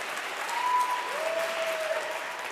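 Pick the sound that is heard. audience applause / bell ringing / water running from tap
audience applause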